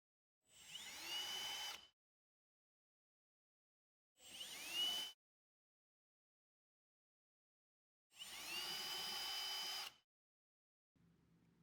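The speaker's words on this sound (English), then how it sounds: "Drill the remaining pilot holes in the top track." A power drill boring pilot holes through the top track of a folding door, three separate whirring bursts of about one to two seconds each with silent gaps between, plus a faint short hum at the end.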